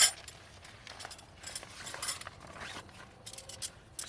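A zipper on a black bag is drawn open in short, scratchy bursts with light metallic clinks, close by and fairly quiet, with no talking.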